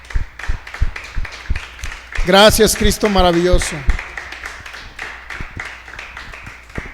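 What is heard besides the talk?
audience applause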